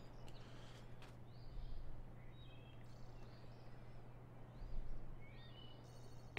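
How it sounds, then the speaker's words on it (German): Birdsong in the Farming Simulator 2015 game world: faint high chirps and short whistled calls scattered over a steady low hum of ambient background. "ich höre die Vögel zwitschern"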